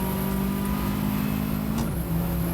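Rover Turbo Cup racing cars at the Spa circuit give a steady, loud engine drone with a sustained whine and a slight pitch drop near the end.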